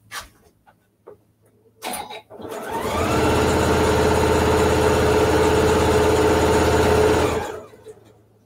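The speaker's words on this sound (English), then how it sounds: "and then let's sew it down" A sewing machine stitches two fabric bunting flags placed right sides together, running steadily and loudly for about five seconds after a few brief handling clicks and rustles, then stopping.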